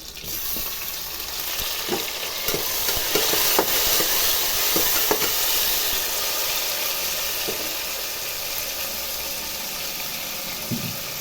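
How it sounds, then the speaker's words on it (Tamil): Vegetables sauté in a pan for bisibelebath, a steady sizzle with scattered clicks and scrapes of stirring, close and continuous. "கொஞ்ச நேரம் நல்லா வதங்கட்டோமா"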